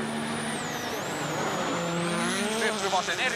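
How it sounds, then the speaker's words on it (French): A Hyundai rally car driven by Hänninen runs a stage of Rally Sweden 2014, its engine note rising and falling steadily as it drives through, loud and fairly close, with no break in the sound. "voici donc la Hyundai avec Hänninen sur le même secteur"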